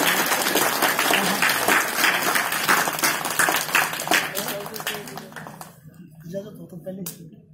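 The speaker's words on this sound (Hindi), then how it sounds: "एक बार पुनः तालियां।" Audience applause at a village government upper primary school event for schoolgirls, a dense crowd clapping that tapers off near the end, with speech mixed in.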